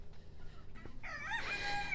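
A rooster crows nearby, a single loud rising cock-a-doodle-doo in the second half after a moment of quiet farmyard background.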